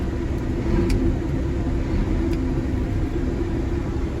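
A vehicle engine on a cattle farm rumbles steadily and close as it is put in first gear and driven, with a low, even drone and no voices.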